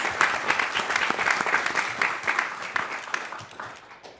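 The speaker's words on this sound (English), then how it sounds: "We give them one more round of applause" Audience at a Chattanooga city council meeting gives a round of applause, brisk steady clapping from a moderate crowd tapering slightly toward the end.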